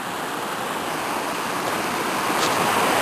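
Snowmelt water runs down beside a road as a steady, broad rushing hiss that swells slightly toward the end, with no voices.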